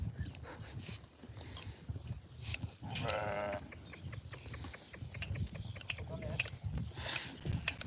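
Sheep bleat now and then amid a busy outdoor farm scene, with clattering, a brief mechanical rattle and scattered movement noises close by.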